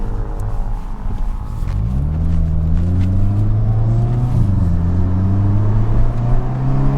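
A 2022 Hyundai Kona N's turbo engine in N mode revs up loudly, its pitch climbing in steps with a brief dip before rising again, a close, continuous drone with no talk.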